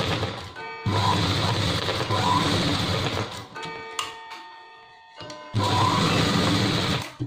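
A sewing machine stitches pieces of an apron made from old clothes, running in close, loud whirring bursts separated by a quieter pause with small clicks and handling noises before stitching resumes.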